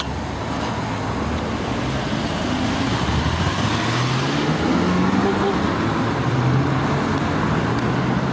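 Steady road traffic roars past a four-lane interchange near Hornsby, NSW, with continuous dense engine and tyre rumble from cars, buses and trucks, loud and close throughout and no clear pauses.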